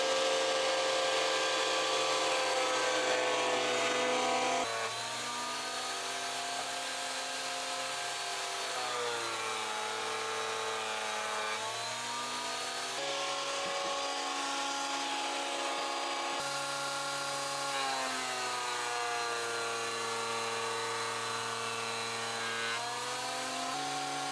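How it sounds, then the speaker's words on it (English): A thickness planer feeds rough sawn sapele boards, a loud, steady machine whine that rises and dips in pitch as each pass loads and unloads the cutter, running without talk. "The first job, get it planed and thickness down."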